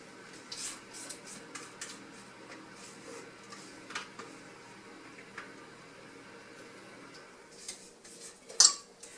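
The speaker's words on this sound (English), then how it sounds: "So you just divide that up to your 3 pans." Thick homemade yellow cake batter is scraped from a bowl into three pans. Soft, scattered clinks and scrapes of utensil on pans run throughout, close and fairly quiet, with one sharper metallic knock near the end and no talking.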